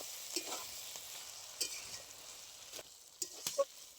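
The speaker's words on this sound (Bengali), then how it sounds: "মশলা দিয়ে খুব ভালো করে কষিয়ে নিয়েছি।" Rohu fish spice paste with mustard paste and turmeric sautéing in a pan, a soft, steady sizzle with a few scraping stirs and small pops, fairly faint and close.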